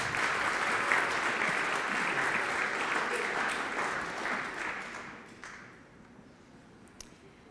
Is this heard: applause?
yes